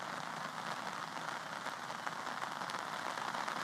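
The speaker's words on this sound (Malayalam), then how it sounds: "കഴിഞ്ഞ ഒരു മണിക്കൂറായി തിരുവനന്തപുരം ജില്ലയിൽ വ്യാപക മഴയാണ്" Heavy, widespread rain falls across Thiruvananthapuram, Kerala, during a red alert, a dense, steady patter of drops on surfaces that continues evenly without any voices.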